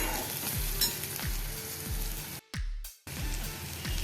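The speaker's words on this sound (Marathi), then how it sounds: "कांदा आपण परतून घेतलेला आहे बघू शकता" Chopped onion sautéing with a little salt in a pan for a potato curry, a steady close sizzle with periodic scraping stirs and two brief dropouts, no talking.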